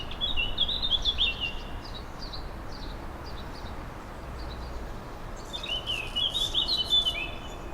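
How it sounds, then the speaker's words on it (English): Songbirds chirp and trill in a neighborhood, sounding out in short bursts at the start and again near the end over a steady low hum of background noise, moderately distant and without speech. "these days there's much less knocking and hammering, and much more of the peaceful bird noises"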